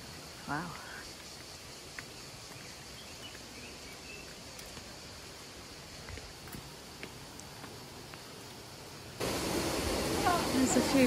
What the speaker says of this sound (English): That's why there's a waterfall.